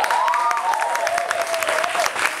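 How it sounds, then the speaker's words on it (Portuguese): Loud, dense applause from a studio audience at an anniversary debate show, continuous clapping with some cheering and a whistle-like tone weaving through it, no speech over it. "eu quero uma salva de palmas aqui para os pais do Guilherme."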